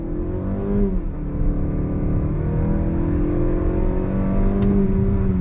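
A 2022 Mazda CX-5 Carbon Edition with a naturally aspirated engine pulls away from a complete stop in sport mode, its engine note rising steadily and loudly from inside the cabin as it accelerates without a break.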